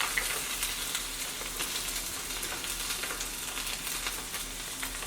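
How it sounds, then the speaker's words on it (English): Jackfruit cooks in a pan on the stove over medium heat, making a steady, even sizzling crackle. It is moderately loud and close, stays constant the whole time, and has no speech. "now we're going to cook the jackfruit. I already have a couple of them in here on medium heat"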